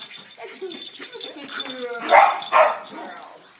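Female foster dog giving short barks and whimpering yips near the microphone, mixed with people talking to her.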